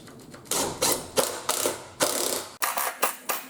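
Drill-driver ratcheting as it sinks a screw into the rib of a cargo trailer wall, a rapid series of close clicking pulses in short bursts with a brief pause midway.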